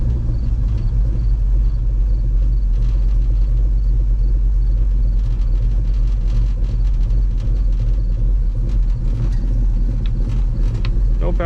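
A 1964 Chevy grain truck fresh off the farm idles steadily up close, its engine rumbling as a loud, continuous low drone with no breaks throughout.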